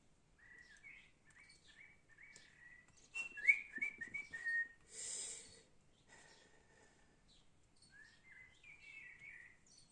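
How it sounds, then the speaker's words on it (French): Small birds chirp and whistle on a sunny day, with bright repeated phrases and a busier burst in the middle, moderately close but fairly soft. "On entend les oiseaux qui gazouillent."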